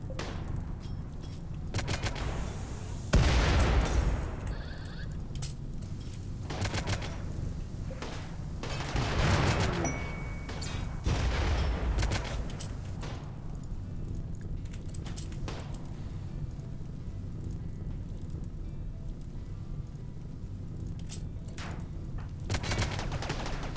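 Gunfire crackles through a RimWorld video game battle, with repeated bursts and scattered single shots alongside thuds and booms, spread unevenly across a long stretch of steady background noise.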